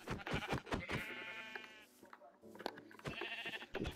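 Sheep in Minecraft bleat in a long wavering cry, followed by a second bleat after a short pause, with brief clicky game sounds at the start.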